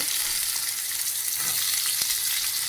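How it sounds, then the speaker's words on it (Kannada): Onions go into a spluttering tempering of cumin and chana dal in hot oil, giving a loud, continuous hiss of frying with a light clack of a spoon near the end, no voices. "ಅದು ಒಗ್ಗರಣೆ ಸಿಡಿತಾ ಇರೋವಾಗ ಈರುಳ್ಳಿ ಹಾಕ್ಬಿಡ್ತೀನಿ"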